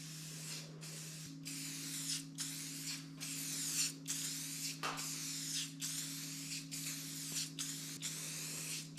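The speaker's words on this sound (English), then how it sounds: "The experts say start spraying before your pass and stop spraying after your pass." Repeated hissing bursts of a spray paint can in a laundry room, short sprays in a steady rhythm with brief pauses between, over a low constant hum.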